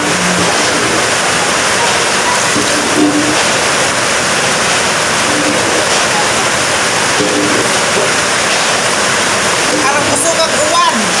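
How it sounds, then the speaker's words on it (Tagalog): Heavy rain pours steadily during a flood at a house, a dense, continuous roar with a few faint background noises and brief voices under it. "arang kusog ang uwan"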